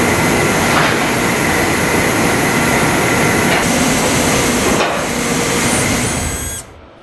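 At a copper smelter furnace, a tapping machine drills out a mud plug in a loud, close, continuous roar with rattling hammering, then cuts off abruptly near the end.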